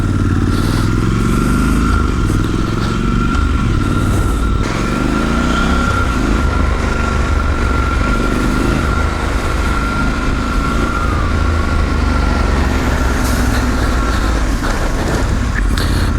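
Triumph Scrambler 1200 XE motorcycle with its stock exhaust, a steady, loud engine drone and rumble heard continuously on an urban ride, with faint road clatter mixed in.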